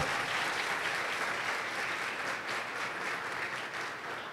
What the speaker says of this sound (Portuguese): Pode aplaudir Ele bem forte.